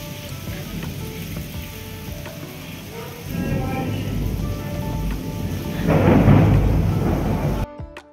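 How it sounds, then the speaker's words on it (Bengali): Steady rain pattering outdoors, a broad wet hiss that swells louder near the end, with a low rumble underneath before cutting off abruptly. "এই বৃষ্টিটা সত্যি খুব দরকার ছিল।"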